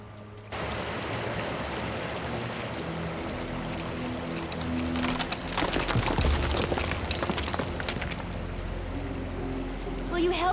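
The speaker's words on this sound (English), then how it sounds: "I hear running water." Running water in cartoon tunnels, a steady rushing wash that starts abruptly and swells slightly louder midway, heard alone with low rumbling underneath.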